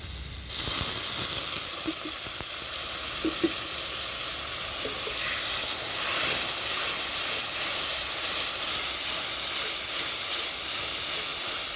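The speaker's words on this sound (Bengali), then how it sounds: "সামান্য জল দিয়ে দিচ্ছি মশলাতে" Water splashes into spice paste frying in a pan for a cabbage dish, setting off a sudden loud sizzle that hisses steadily for the rest of the moment, with a few faint stirring clinks.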